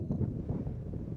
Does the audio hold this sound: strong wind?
yes